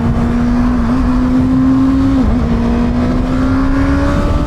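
A 2024 Kawasaki ZX6R sports motorcycle accelerating hard, its engine a loud, close, high-pitched wail with two quick dips where the quick shifter snaps through gear changes, pulling without break the whole time.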